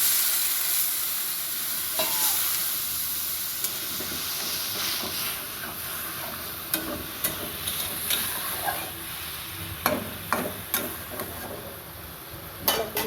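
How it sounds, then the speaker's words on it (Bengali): Broth poured a little at a time into frying ayonna fish and radish curry sets off a steady, close sizzle and hiss, with scattered clinks and scrapes of stirring toward the end. "এখন একটু একটু করে ঝোল দিয়ে দিচ্ছি"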